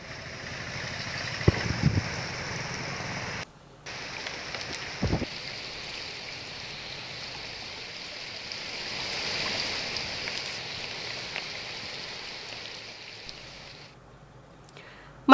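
Heavy rain pours steadily on a flooded area, a dense hiss that runs without a break, with a couple of short thumps and a brief drop-out partway through.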